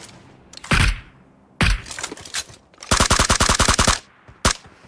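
Video game gunfire: a few sharp single shots, then a rapid burst of about a dozen evenly spaced automatic rounds, and one last crack, loud and close with no talking.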